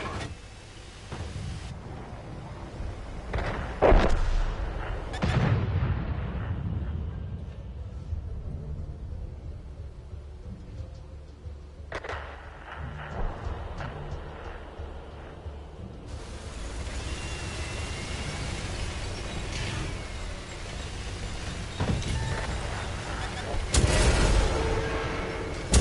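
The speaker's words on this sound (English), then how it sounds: "We have long-range fire incoming." Long-range artillery fire incoming during a World of Tanks match: booming shell impacts and blasts at intervals, with deep rumbling and crackle between them, loud game audio with no talking.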